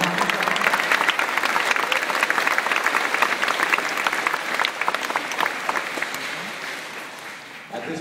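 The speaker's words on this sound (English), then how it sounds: "let's give them a round of applause" A full round of applause from a concert audience before an orchestra performance, dense and loud at first, then gradually thinning and fading toward the end.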